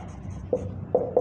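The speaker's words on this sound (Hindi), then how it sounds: "This is a sentence I have written on the blackboard." Chalk tapping and scraping on a classroom blackboard as a sentence is written: three short, distinct strokes close by over a quiet background, with no talking.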